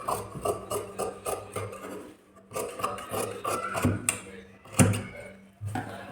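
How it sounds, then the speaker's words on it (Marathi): Scissors cut through blouse fabric to free two sleeves in one pass, making repeated rasping, rubbing snips close by, with a few pauses and heavier handling knocks. "आता ती स्लीव्स कापून घ्यायची आपल्याला"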